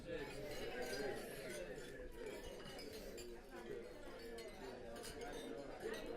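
At a wedding reception toast, glasses clink in light, scattered taps amid a room full of murmuring guests and nearby talking, all at a steady, busy level.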